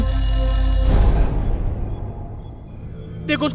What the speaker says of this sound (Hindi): देखो उसका फोन बज रहा है।